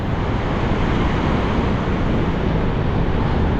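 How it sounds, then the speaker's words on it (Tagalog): Strong ocean waves at Baler beach in the afternoon, a steady, loud, continuous broadband roar of surf with wind, no break and no voices. "Paghapon pala, malakas ang alon, di tayo makakaligo."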